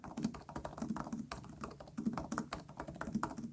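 Typing on a Dell XPS 14 laptop keyboard with flat, tightly spaced keys: a quick, uneven run of close, crisp key taps with no voices.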